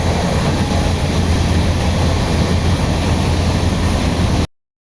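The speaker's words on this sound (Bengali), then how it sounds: "এই সবুজ ধান ক্ষেতের বুক চিরে এগিয়ে চলেছে ব্ল্যাক ডায়মন্ড এক্সপ্রেস বর্ধমানের দিকে" The Black Diamond Express rolls through green paddy fields toward Bardhaman with a steady, loud, broad rumble and roar of a train in motion, unbroken and without voices, cutting off sharply.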